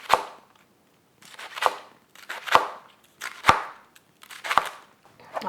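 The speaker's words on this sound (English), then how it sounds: "the leek is too soft to go through this machine, so I have to just cut it very," A knife chops leek very finely on a cutting board in a series of sharp, evenly spaced knocks, each followed by brief scraping and shuffling, recorded up close.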